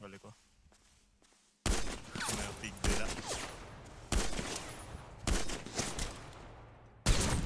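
Bursts of gunfire in GTA V roleplay, several loud sharp volleys breaking in after a quiet start, with brief gaps between them and faint voices in the background.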